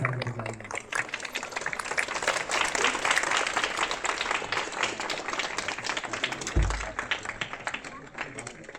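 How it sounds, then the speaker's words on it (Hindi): A church audience at a house blessing ceremony claps loudly and steadily as a farewell, dense applause filling the room for several seconds with a low thump partway through. "विदा करते समय हमें जोरदार से ताली बजाएंगे"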